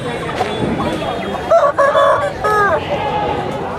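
Chickens at a busy country chicken market in Anakapalli, Andhra Pradesh, give loud clucks and squawks up close, with crowd murmur around them.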